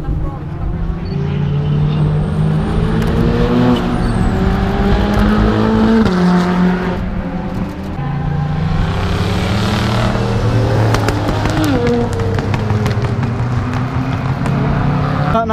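A Ferrari F40 howls around the Brands Hatch circuit, loud engine revs rising and falling through gear changes as it passes close by, with people talking over the din.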